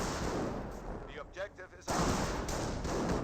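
Rifle gunfire in the Company of Heroes battle game sounds as a dense crackle of shots and booms, loud and continuous, with a short lull while a voice speaks over the combat.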